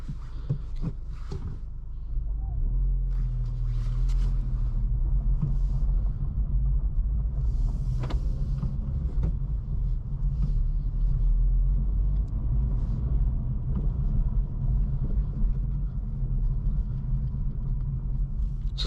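From inside a 2024 Acura Integra Type S driving in comfort mode, a steady low engine and road rumble with faint tire noise holds at an even level throughout, with no talking.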